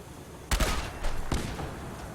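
A heavy weapon fires in Fallout 4, two loud booming bursts close together, each with a rumbling tail, and no talking.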